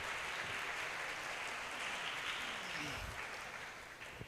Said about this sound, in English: give a big round of applause to all the presenters